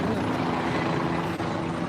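A helicopter flies overhead during a protest near a detention center and federal building in Los Angeles, its rotor giving a steady loud throbbing drone that fills the whole moment.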